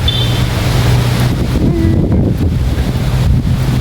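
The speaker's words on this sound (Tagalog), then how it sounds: "Hangin, ang lamig." Strong wind blows outdoors at Picnic Grove in Tagaytay City, a loud continuous rush buffeting the microphone throughout.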